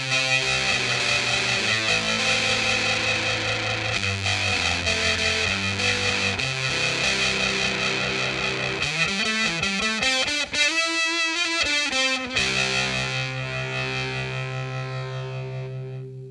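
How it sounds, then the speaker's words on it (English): Heavily distorted electric guitar chords through a Holy Stain multi-effects pedal with slow tremolo ring out with a pulsing, wavering effect, sustained notes bending and echoing before slowly fading. "So now let's bring in the distortion side."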